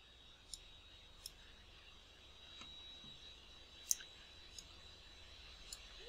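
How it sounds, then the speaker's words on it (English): A computer mouse gives a handful of faint, sharp left clicks spaced a second or so apart over a low, steady background hiss in a quiet room. "Now this one I'm going to left click"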